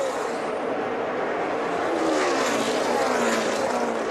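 NASCAR Xfinity Series stock cars on the final lap at a speedway, a continuous roar of engines with a rising and falling pass-by drone, moderately distant and steady.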